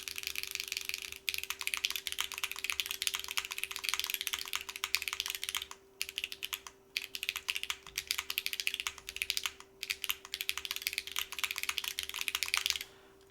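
Typing on a mechanical keyboard fitted with Sonya switches, a fast, continuous stream of crisp, clacky keystrokes close up, with a few short pauses and a steady hum behind it.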